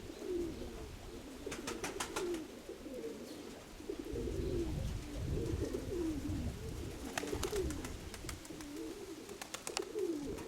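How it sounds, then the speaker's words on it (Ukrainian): A pigeon coos repeatedly in soft, low throaty rolls, with brief bursts of sharp clicking or fluttering now and then and a faint background hiss. "О, а ти голубка, да, виявляється."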